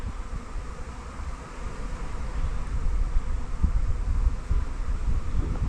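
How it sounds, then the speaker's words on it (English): A good-sized honey bee swarm buzzing at an apiary near the hives, a steady dense hum from many insects that swells slightly louder toward the end, with light wind noise and no talking. "Yeah, that's a good sized swarm."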